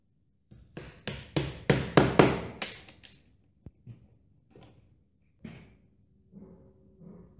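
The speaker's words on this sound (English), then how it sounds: "just want to tap them home until they break" Wooden pegs are tapped home with a hammer, a quick run of about eight firm, resonant knocks close by, followed by lighter scattered taps and handling noise.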